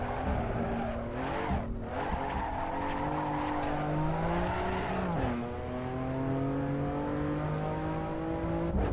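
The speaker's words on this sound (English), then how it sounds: "Those rear tires have broken their traction, and they are no longer using the forces that they generate to propel the car forward." Sim racing car oversteering as its rear tires spin and lose traction, a steady loud engine drone with rising and falling pitch and a gritty tire scrub underneath, continuous throughout.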